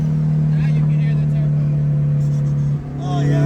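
Boosted car engine holding a steady loud drone from inside the cabin, with a faint rising whistle of the turbo spooling over it; people talk throughout.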